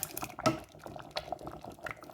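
Quiet bubbling and soft popping of thick turmeric porridge boiling in a pot, with irregular small bursts and one louder blip, heard close and alone.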